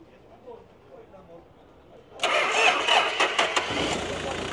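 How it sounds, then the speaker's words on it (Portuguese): A diesel 4x4 pickup at a used-car fair cranks and fires midway after faint background talk, then settles into a loud, close, rattling idle with a few quick revs. "O amigo vai dar partida para a gente escutar o carro aqui funcionando."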